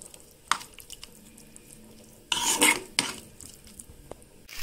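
Dal and green chillies frying with turmeric in oil in a pan, stirred on low heat: a quiet scrape of a utensil early on, then a louder burst of clattering and stirring against the pan midway, with soft frying in between.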